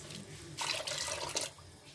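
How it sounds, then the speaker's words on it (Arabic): Warm water poured into semolina for harsha, a quiet short splashing pour in a home kitchen that swells briefly and then tapers off. "ندير الماء دافي"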